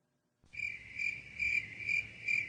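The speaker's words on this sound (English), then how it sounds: "Just crickets" Crickets chirping steadily in repeated pulses, a clear high trill that starts abruptly and continues with rhythmic swells, with no other sounds.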